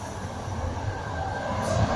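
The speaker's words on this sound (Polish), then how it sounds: "idziemy po pociągu, zobaczymy gdzie ja dojdę" Interior of a moving train carriage, a constant low rumble and rolling hum of wheels on track, with a faint high whine near the end and no voices.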